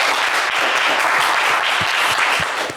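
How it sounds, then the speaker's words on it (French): Loud, sustained applause from a television game show studio audience, dense clapping that stays strong throughout before easing slightly at the end. "Allez, ça mérite des applaudissements."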